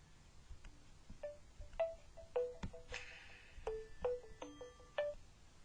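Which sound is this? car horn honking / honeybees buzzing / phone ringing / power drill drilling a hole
phone ringing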